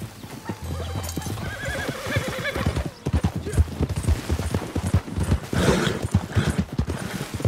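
Horse hooves clip-clopping in a steady trot with a loud whinny in the video game Red Dead Redemption 2, close and clear, plus brief rustling and a short voice sound.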